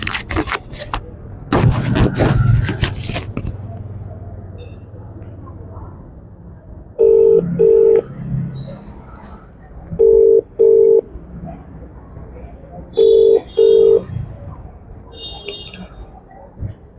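A phone call placed near a hospital: three pairs of loud electronic ringback tones repeat at regular intervals, while faint voices and some rustling handling noise precede and surround them.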